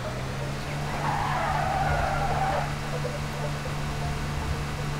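Car skidding in the Go Vacation video game at a mountain resort, a steady tire screech that swells and fades over a constant engine drone.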